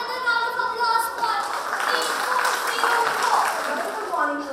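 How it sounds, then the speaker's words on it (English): An audience claps through a school event's presentation session, a steady wash of hands heard under a voice and some tonal sound that runs across the whole stretch. "Can we have another round of applause for"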